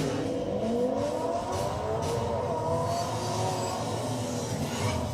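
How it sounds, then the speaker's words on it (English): A car engine revs steadily with rising and falling tones, loud and continuous, with no voices. "Rev up your engine!"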